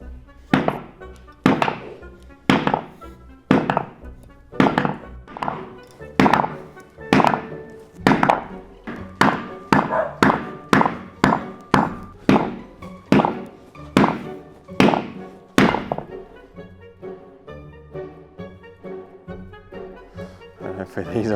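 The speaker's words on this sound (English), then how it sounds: "flip it upside down, and give it a few knocks, and hopefully that hub falls off" A 4WD hub, flipped upside down, is struck over and over to knock it off the axle, giving a long run of loud, evenly spaced metallic thunks that slows to a few final blows.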